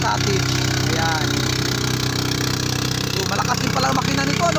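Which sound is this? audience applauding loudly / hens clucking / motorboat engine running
motorboat engine running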